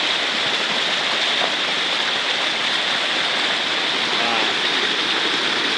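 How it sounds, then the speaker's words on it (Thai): Strong floodwater from heavy rain rushes past in a constant loud roar, a dense unbroken wash of water noise filling the whole clip, close by. "ตรงนี้น้ำแรงนะครับ"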